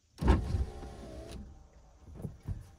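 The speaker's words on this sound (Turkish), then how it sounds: "Her zaman yaptığımız gibi camları indireceğim." Electric window motor on a Chevrolet Kalos 1.2 SE with 192,000 km, lowering the glass in a steady whirring run of about a second, close and fairly loud, followed by a couple of faint clicks.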